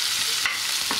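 Onion with green and red chillies stirred and sautéed in a pan, a steady close sizzle broken by a couple of scraping stirs, with no voices.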